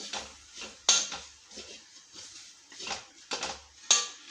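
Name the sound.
stirring chilli and coriander masala in a pan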